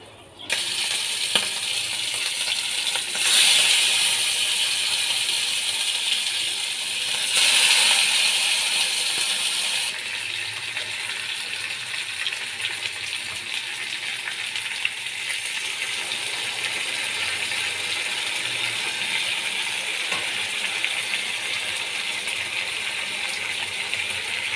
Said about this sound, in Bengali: ইলিশ মাছগুলোকে এবার আমি একে একে তেলের মধ্যে দিয়ে দেব।